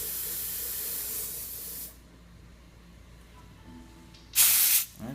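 A refrigerant cylinder purges air in a loud steady hiss that cuts off abruptly. After a quieter stretch, a short, louder spray burst follows near the end.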